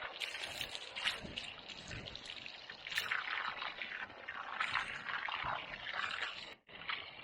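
Water is poured around a newly planted ice cream plant set among wood chips and sand, a steady splashing, trickling flow close by that breaks off briefly near the end before resuming.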